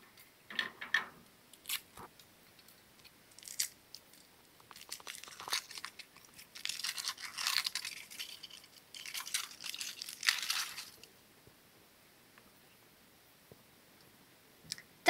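Crinkling foil and plastic wrapping being torn and peeled open from a Kinder Surprise chocolate egg, with bursts of close crackling and snipping sounds that grow denser midway, then fade to near silence.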